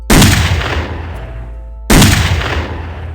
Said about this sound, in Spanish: Disparó 2 veces más